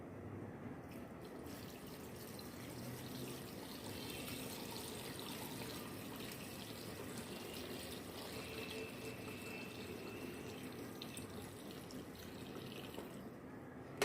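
Water pours onto olives with chili during Egyptian-style olive preparation, a faint, steady trickling and splashing fill lasting the whole stretch, quiet and continuous with no voices.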